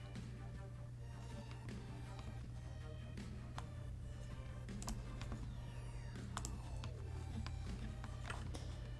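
Someone types steadily on a computer keyboard while writing a story, a dense run of close, crisp clicks and clacks over a constant low hum.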